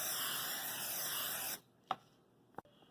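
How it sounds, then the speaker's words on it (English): A can of cooking spray hisses steadily onto a baking pan for about a second and a half, then stops, followed by a few light knocks and handling sounds close by. "now I'm ready to spray my pan."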